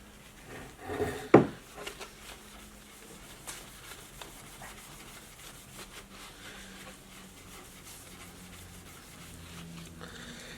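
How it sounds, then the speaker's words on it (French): A cloth dampened with alcohol is rubbed over a damaged patch of shellac-varnished mahogany on an antique automobile trunk from around 1900, giving faint, soft wiping close by after one sharp wooden knock near the start. "Et je vais passer de l'alcool, nettoyer."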